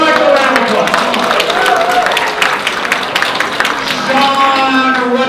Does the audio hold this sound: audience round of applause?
yes